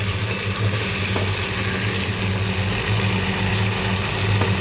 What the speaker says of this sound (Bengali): সোয়াশাস দিয়ে দিলাম চিলি সসও দিয়ে দিলাম ওইটাকে নাড়বো